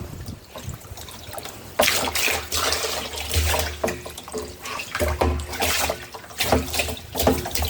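Water splashing and trickling steadily into a barrel being rinsed and filled during well cleaning, continuous pouring with uneven surges and gurgles, close by.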